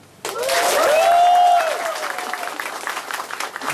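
Audience applause at a Filipino presentation, loud clapping that starts abruptly, holds strong for over a second, then settles into steadier, thinner clapping with a whistle or cheer near the start.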